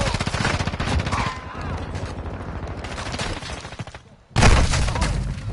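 Rapid automatic gunfire in a Call of Duty match, loud and continuous bursts with a brief lull before another close, heavy volley, with game sounds and no talking.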